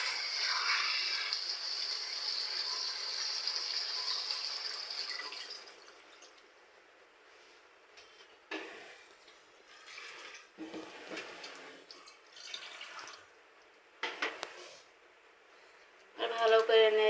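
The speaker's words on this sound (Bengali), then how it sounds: "এবার আমি ঝোলের পানি দিয়ে দেবো।" Water poured into a pan of sautéed eggplant and potato for a koi fish broth, a steady near gush for about five seconds, then quieter stirring and scraping with brief clatters and a louder burst at the end.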